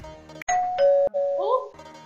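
A doorbell chimes indoors in a home, two-tone ding-dong notes ringing out clearly and alone, loud and close, before a pause.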